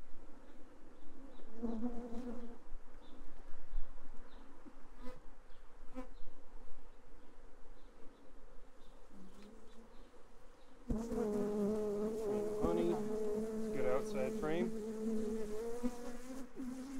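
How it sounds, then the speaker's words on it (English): Honey bees from an overwintered Apimaye hive, defensive during an inspection, buzz continuously and close, with individual bees droning past and a louder, denser swarm hum in the last few seconds. "these are not the friendliest of bees."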